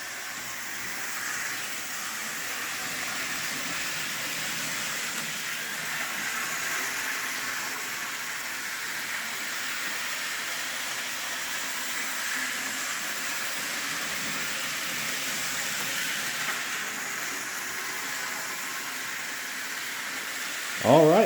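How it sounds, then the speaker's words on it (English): A Tyco Corn King promotional model train set from around 1986 running on its track, giving a steady, even whirring hiss that lasts throughout, with a brief louder clunk at the very end. "That is the Tyco Corn King promotional train set."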